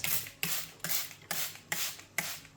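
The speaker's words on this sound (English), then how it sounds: "Then thoroughly mist all of the leaves." A handheld spray bottle mists a homemade flower-feeding mixture over plant leaves in six quick, evenly spaced hissing bursts. The bursts are close and fairly quiet, with no voices.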